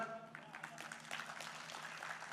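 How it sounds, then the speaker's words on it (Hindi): Studio audience clapping for Anil Kapoor's entrance on a reality show set, a quiet, fairly steady patter of many hands with a few sharper claps near the middle. "जरा मुंह में फंसाओ और ताली बजाओ एक बार जोरदार"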